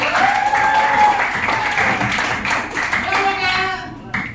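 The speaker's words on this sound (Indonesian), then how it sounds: "tepuk tangan buat kelompoknya" A classroom audience gives a group of students a brief round of clapping, dense and close, fading over about four seconds as a voice speaks over it.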